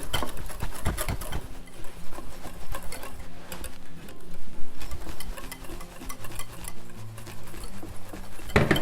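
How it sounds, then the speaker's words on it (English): Mayonnaise whisked by hand in a bowl, giving a steady, busy run of rapid scraping and clicking strokes that carries on without a break at close range. "It will take 3 minutes whisking."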